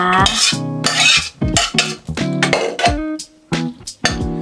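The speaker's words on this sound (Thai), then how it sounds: "เปลี่ยนไปใส่หม้อที่เราเตรียมจะอบ เอามาใส่ในหม้อที่เราเตรียมจะอบเลยนะคะ" Stir-fried pork for Thai baked pork is tipped into a baking pot, with a metal utensil clinking and scraping against the pot in repeated close, uneven strokes.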